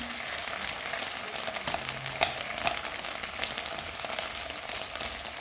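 Small onions frying in a pan over medium heat give a steady, close sizzle with faint crackles and occasional soft scrapes, and no voices.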